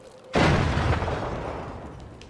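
A grenade detonates in Escape From Tarkov: one sudden, heavy blast after a brief quiet moment, followed by a long rumbling tail that slowly fades, with no talk.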